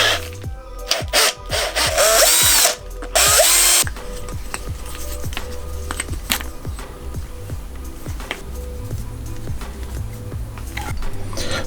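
A power driver buzzes out T20 screws from a Doxy die cast machine, with a couple of longer whirring bursts early on followed by many quick ratcheting clicks and taps at close range.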